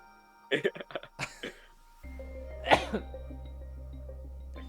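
A single sharp sneeze bursts out near mid-clip, preceded by a few short voice or cough sounds, with a low steady hum behind it.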